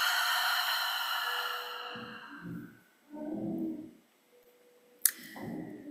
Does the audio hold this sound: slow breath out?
yes